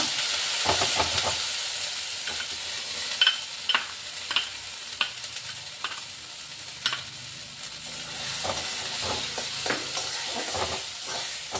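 Ground green peas for kochuri frying in a kadai with a pinch of asafoetida, a steady sizzle broken by repeated sharp scrapes and clicks of stirring, close and fairly loud, with no voices.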